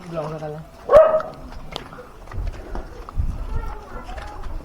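A dog gives a sharp, loud bark near the start, followed by outdoor voices and shuffling movement.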